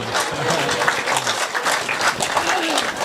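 An audience at a Hindi comedy show claps in a sustained burst of applause that rises and falls, with a voice speaking over it.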